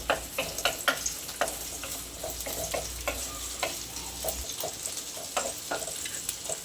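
Onions sauté in a pan for a prawn gravy, giving a low, continuous sizzle with a series of quick ticking scrapes and taps from a spoon stirring, busier at first and then settling into gentler frying.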